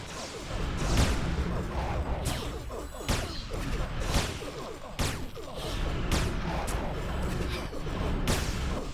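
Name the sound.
turret gunfire in Anarchy Online video game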